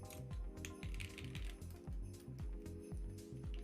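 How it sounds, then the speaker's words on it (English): Keycaps are pulled off a mechanical keyboard one after another, giving a quick, rhythmic string of close plastic clicks and snaps with a faint ratcheting edge. "I can't change keyboard yet because I'm taking out the keycaps."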